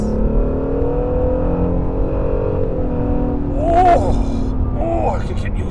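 Honda NSX engine accelerating around a corner on a track, a steady loud drone heard from inside the car, with a voice speaking over it near the end.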